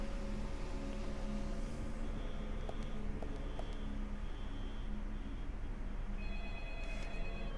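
In the video game Deadly Premonition, a telephone rings faintly, a few thin electronic trills over a constant low rumbling background hum, with no one talking.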